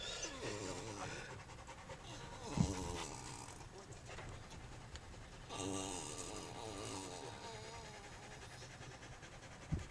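A dog pants rapidly and steadily in rhythmic bursts, close by, with a few brief knocks and rustling around it, outdoors near a flock of sheep in New Zealand.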